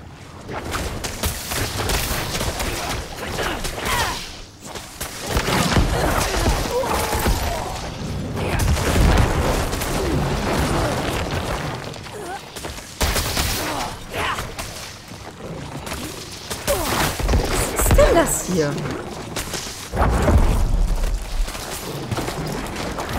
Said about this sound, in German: Okay, die Viecher explodieren.